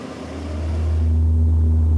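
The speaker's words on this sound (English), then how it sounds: "This can cause a droning or humming noise called booming, as well as vibration when the car is running at a high speed." Low droning boom from an unbalanced propeller shaft in a car at high speed, a steady deep hum that builds in loudness and then holds, with no talk.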